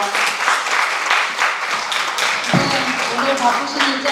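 Steady applause from an audience at a town hall meeting with citizens, dense clapping filling the space throughout, with a faint voice carrying over it.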